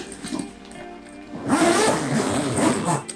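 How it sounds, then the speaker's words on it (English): A zipper closes on a Sea Gods paddleboard bag, a quiet rustle first, then a loud, close ripping zip pulled in two strokes. "zip it up"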